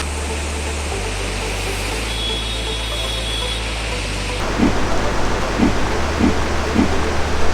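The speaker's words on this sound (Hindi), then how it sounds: "तो दोस्तों ये है पिंडर नदी" The Pinder River, also called Karnaganga, fed by the Pinder Glacier, rushes near Karnaprayag in Garhwal, Chamoli, as a steady broadband roar of flowing water under a low, droning hum, with a few soft knocks toward the end.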